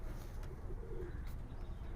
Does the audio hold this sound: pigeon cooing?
yes